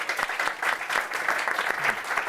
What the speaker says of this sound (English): Perhaps one more round of applause